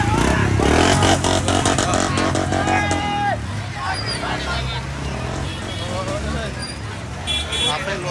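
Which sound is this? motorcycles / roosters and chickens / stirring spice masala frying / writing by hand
motorcycles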